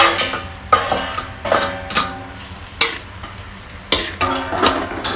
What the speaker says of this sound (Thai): ก็ผัดให้สุกก่อนนะคะ